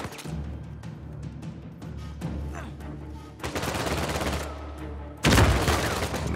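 Gunfire in the video game Uncharted 4, a run of rapid shots and bursts layered over background game music and ambience, with a loud, dense blast near the end.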